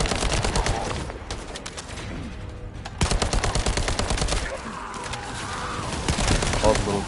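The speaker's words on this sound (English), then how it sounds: "All the little cannon fodder ads just want to keep shooting me." Enemy gunfire in the video game The First Descendant, dense rapid bursts of shots rattling loudly in waves with brief lulls, over game effects and background sound.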